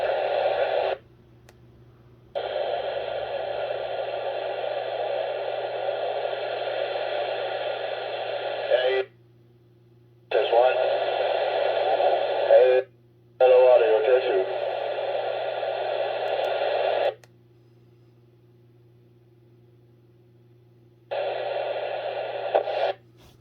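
A President McKinley II CB radio scanning channels, giving bursts of steady static hiss that cut off abruptly into brief silences as the scan moves between channels, close and moderately loud.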